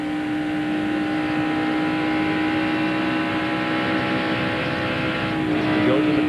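A NASCAR Busch Series race car at Michigan Speedway drones steadily on track, backing off in a corner and then getting back on the gas, a sustained engine tone with rising intensity at the end.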